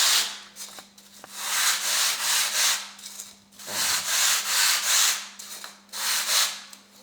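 Foam shape being sanded by hand with 220 grit sandpaper, steady back-and-forth rubbing strokes in close, fairly loud bursts with a short pause midway, alongside a faint steady hum.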